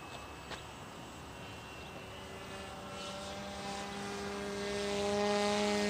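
A Peace Drone's propellers whir at half throttle, a steady droning buzz with tonal harmonics that grows slightly louder toward the end, heard alone without voices.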